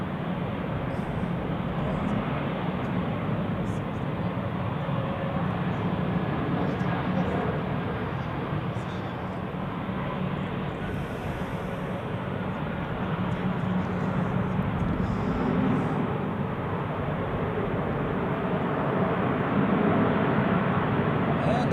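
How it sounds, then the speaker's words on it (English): A Swiss Airbus A320neo lands at Zurich Airport on a gusty crosswind day, its engines producing a steady, broad jet roar that holds evenly throughout, heard from a distance with wind noise. "We have a Swiss A320 Neo on short final there."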